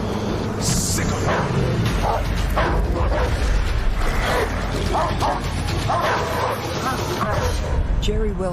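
Several dogs bark and yip repeatedly at a neighbor's property while a person mows grass, short sharp calls scattered through a constant loud background, with some whimpering.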